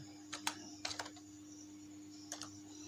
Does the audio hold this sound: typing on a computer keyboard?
yes